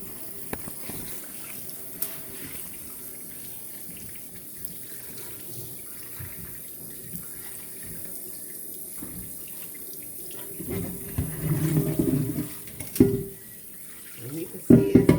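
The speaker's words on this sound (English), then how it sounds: "You rinse that out real good." Tap water running into a kitchen sink while rinsing an old rusted cast iron skillet, a steady low wash that grows louder and splashier near the end, with no talking.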